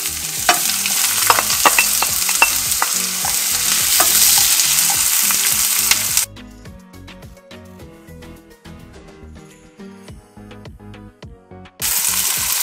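Garlic and onion sizzle in a hot pan amid rhythmic stirring clatter; partway through the frying hiss drops out, leaving a patterned tonal backing before the sizzle returns abruptly at the end.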